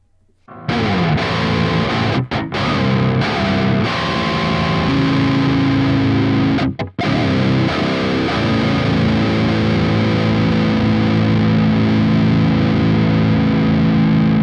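Electric guitar runs through Archetype Gojira pedal and Archetype Nolly amp plugins, giving heavily distorted, loud sustained chords and riffs with two brief sharp cutoffs, playing continuously with no talking.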